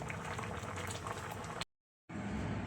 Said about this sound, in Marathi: अगदी मस्त खणखणीत या ठिकाणी उकळी आलेली आहे